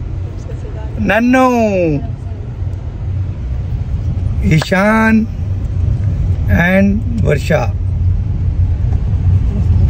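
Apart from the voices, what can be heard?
car driving, engine rumble inside the car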